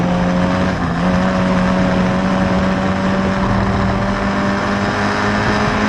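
Historic Formula Ford race cars circling Croft circuit, engines droning steadily and loudly throughout with a brief dip as they pass, a continuous near roar.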